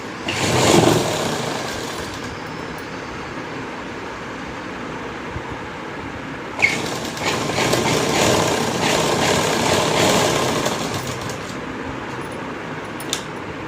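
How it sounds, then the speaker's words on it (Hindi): Sewing machine running long basting stitches on a kurti, a steady mechanical whir that stays continuous throughout, rising slightly in the middle section after a brief click, close and fairly loud with no talking. "सिलाई कच्ची लगानी है, पक्की नहीं लगानी है, क्योंकि हमने बाजू में भी तुरपाई करनी है, इसीलिए 5 नंबर की सिलाई।"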